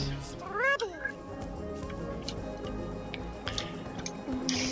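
A cat in the video game Bugsnax gives a short meow near the start, close and clear over a steady game ambience, with faint clicks afterward.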